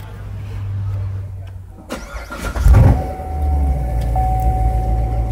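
A Chevrolet Stingray cranks over and catches, its engine starting with a brief rev before settling into a steady idle, loud and close, with a thin whine running underneath.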